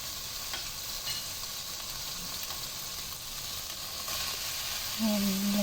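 Pork sautés in a hot pan for a spicy lotus root dish, a steady close sizzle and frying hiss with occasional stirring scrapes, growing a little louder toward the end.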